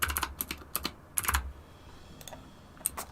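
Quick bursts of typing on a computer keyboard, close and clear, with short pauses between clusters of keystrokes and no voices.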